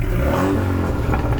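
A budget rally car's engine catches and revs hard over roughly a second and a half, giving a loud, rough mid-pitched roar with a rattling edge.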